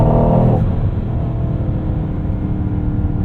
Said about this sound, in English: This 4-liter V8, it's so responsive.